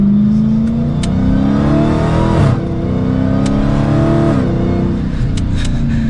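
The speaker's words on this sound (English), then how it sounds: "I'm sure you can hear that supercharger whine." A 2022 supercharged muscle car from the Shelby GT500 versus Dodge Challenger SRT Hellcat comparison accelerates hard from the cabin. A rising supercharger whine rides over the loud engine roar, which briefly drops at a gear change and then climbs again.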